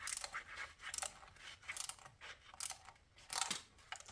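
A ratchet tightens the intake manifold bolts on a Mercedes M272 V6 engine, producing quick, close bursts of clicking that come in repeated strokes with short pauses between them, fairly quiet and without talking.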